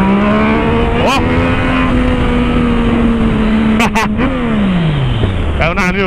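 A Yamaha MT-09 motorcycle's exhaust drones at a steady, high rev. The engine note holds, then sags in pitch as the revs drop, with brief sharp bursts and voices in the background.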